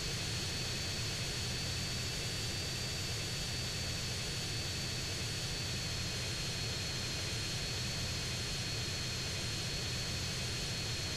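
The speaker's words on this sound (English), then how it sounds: "we're going to take our plane and we're going to fly straight north" A game airplane, the Shamel, cruises steadily in flight with a continuous engine drone and a faint high whine, loud and unbroken throughout with no talk.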